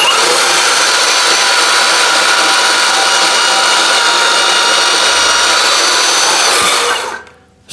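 A VEVOR 20V cordless portable band saw cuts steadily for about seven seconds, a loud continuous whine and grinding buzz that stops abruptly at the end of the cut.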